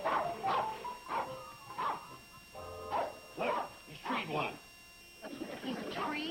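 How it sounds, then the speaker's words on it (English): A hunting dog barks repeatedly while circling a tree where it has treed a bee, in a classic country sitcom. About eight loud, close yaps and bow-wows come in an uneven rhythm, with a brief whimper between them. "The dog will keep barking and circling the tree"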